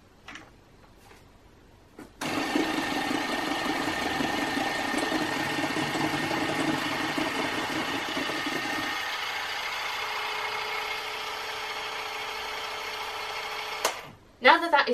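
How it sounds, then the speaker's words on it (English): Gluten-free vanilla cookie batter of egg and creamed ingredients mixed in a bowl with an electric hand mixer, a steady loud whirring drone that runs for about twelve seconds and shifts lower partway through before stopping. "And now mix together until well combined."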